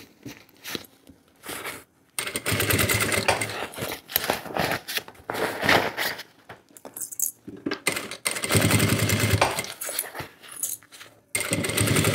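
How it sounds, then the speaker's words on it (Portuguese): A sewing machine stitches the lining of a shoulder bag right over a previous seam, running in repeated loud bursts with short pauses between them as the fabric is adjusted, close up. "Vou ajeitando e costurando. Bem em cima da costura anterior."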